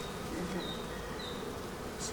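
Honey bees buzzing steadily around a hive super during a honey harvest, a continuous droning hum with a few louder individual bees passing close, with no talking.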